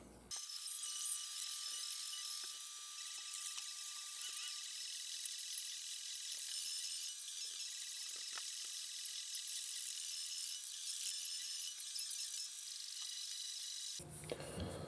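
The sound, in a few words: sanding wood with sandpaper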